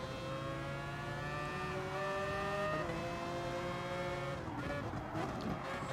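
Honda NSX race car in Gran Turismo Sport struggling for grip, engine note climbing and shifting through gears with steady roar, other cars droning nearby and a rough scrubbing tire sound toward the end.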